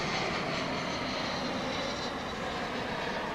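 An airliner, a flight from Cancun, arrives at DFW International Airport with a loud steady jet engine roar that holds evenly throughout, nearby and unbroken.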